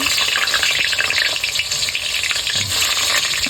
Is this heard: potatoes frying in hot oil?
yes